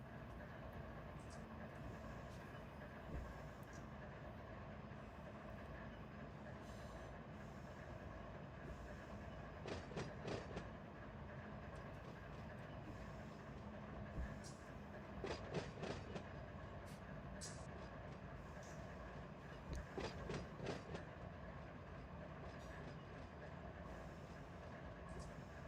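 A freight train rolls through San Bernardino Yard in the RUN8 train simulator game, with a steady low rumble and repeated bursts of clickety-clack wheel noise over rail joints, fairly quiet and continuous.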